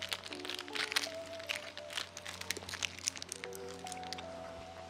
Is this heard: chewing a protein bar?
yes